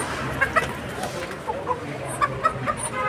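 Live free-range chickens and roosters at a poultry market give short, scattered clucks and squawks over a low murmur of market background noise.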